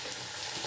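Cumin, ginger and green chilli paste sizzles briefly in a hot pan while being stirred, a short bright hiss heard up close.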